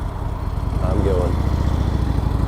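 A Harley Davidson Low Rider S motorcycle engine rumbles close and loud as it pulls away and accelerates, its low throb building steadily.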